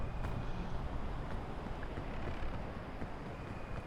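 Wind gusting steadily in the climbing video game Peak, a broad continuous rushing noise that stays loud and close for the whole stretch, with no talk over it.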